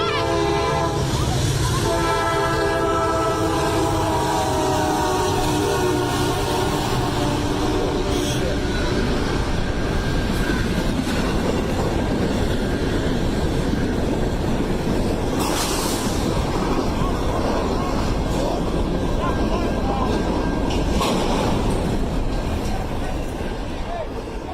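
A Norfolk Southern intermodal freight train, bound for Chicago, rumbles steadily past a derailment site where it struck a parked vehicle, with a loud continuous roar of wheels and cars and horn tones sounding early on, over about twenty-five seconds.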